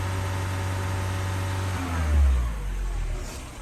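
A mini water pump runs beside a warm car engine, a steady low mechanical hum with a continuous broadband whir that swells slightly in the middle before settling again.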